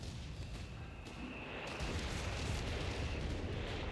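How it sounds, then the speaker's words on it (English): Artillery barrage from an ability in Company of Heroes 3, fired over a coastal bunker line: a faint, dense wash of distant low rumbling and booms, building slightly in loudness and continuous throughout. "Another artillery ability to protect the bunkers."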